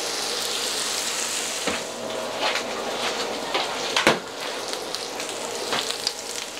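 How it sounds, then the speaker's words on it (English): Sausage sizzles and crackles in a frying pan for a breakfast burrito, a constant close hiss broken by a few louder pops and scrapes. "Alright, and we'll wait for our sausage to finish cooking."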